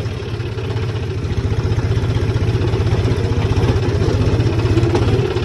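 Tractor engine labouring as it pulls a very heavy machine, a close, steady, throbbing diesel chug with rapid regular pulses and a slight swell in loudness, no talk.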